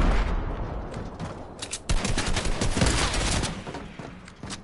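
Rapid automatic gunfire in a video game, a dense, continuous rattle of shots that stays loud through the whole clip, with a sharp surge in intensity just before the midpoint.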